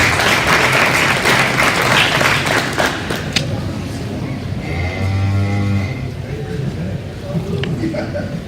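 Applause from the audience at a cattle show for English heifer exhibitors: loud, dense clapping for about three seconds that thins out, followed by a cow mooing nearby and scattered thumps in the barn.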